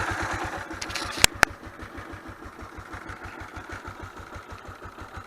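A Lexmoto ZSB 125 motorcycle engine idles at tick over with its EGR valve blanked off, a close, steady low putter of even rapid pulses after two sharp clicks near the start.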